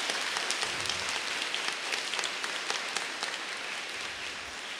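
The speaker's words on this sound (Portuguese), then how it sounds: "Pode aplaudir, que lindo, que lindo." Church congregation applauding during a sermon, a dense steady wash of clapping from a crowd, fairly close and unbroken for several seconds.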